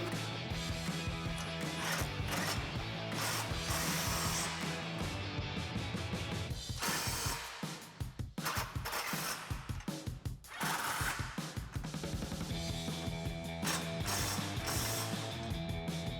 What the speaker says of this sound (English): We'll tighten those back down again with our 15mm socket.